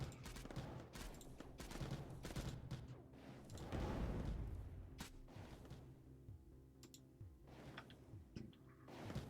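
Units trade fire in the Mindustry Erekir siege, rapid ticking shots and short bursts rattling in clusters at moderate distance, with a heavier swelling impact near the middle before the firing thins out.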